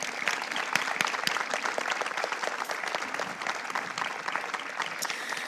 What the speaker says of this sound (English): just give them all a round of applause